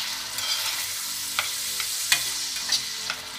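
Tomato sauce with peeled, cut tomato sizzles in a pan, stirred with a few soft scrapes and clinks over a steady frying hiss, close and with no talk.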